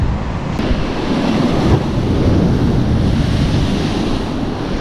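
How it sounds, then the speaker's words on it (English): Winter sea surf pounding a rocky fishing shore, a loud continuous roar of breaking waves mixed with strong wind buffeting the microphone, with no voices. "Check out those waves."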